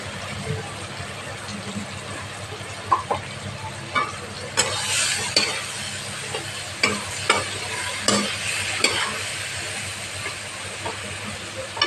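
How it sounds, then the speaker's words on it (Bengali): Spice paste for a fish curry with singh fish and green banana stirred and fried in a pan, a steady sizzle and hiss broken by scraping spoon strokes and clacks throughout, close and fairly loud. "মশলাটা ভাজা হয়ে আসো।"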